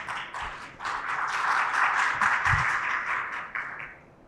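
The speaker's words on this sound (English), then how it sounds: "I've heard the audience clap in the middle of the session rather than only the end" Audience at a 5G networking conference session clapping mid-talk, a dense burst of applause that swells, holds for a few seconds and fades out, no voices.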